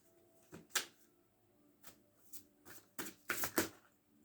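Tarot cards are shuffled and drawn in a quiet room, making a series of short papery riffles and flicks in irregular bursts, growing busier toward the end.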